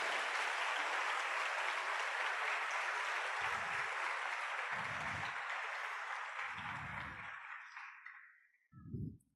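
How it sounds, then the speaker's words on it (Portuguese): Church congregation clapping in praise during a sermon, a dense sustained roar of hands that gradually fades out, with a few low thumps underneath and a brief burst near the end. "Dê uma salva de palmas ao Deus Todo-Glorioso, o Senhor do céu e da terra"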